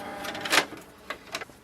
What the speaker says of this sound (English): Also open the paper output tray.